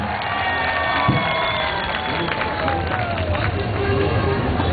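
A live concert crowd at Jashn-e-Faiz cheers and shouts, with some clapping, in a dense, continuous roar, while a loud, sustained whistle-like tone rises and falls above the crowd noise.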